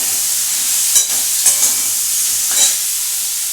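Mushrooms, capsicum and sweet corn sizzle steadily in a pan, with a bright, hissing frying sound close by and a few distinct scraping stirs of a spatula; no one speaks.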